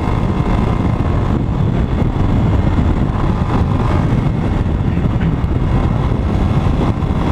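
A motorcycle fitted with a wider tyre drones steadily close by on a mountain road, mixed with constant wind buffeting, as if riding along at speed; no voices.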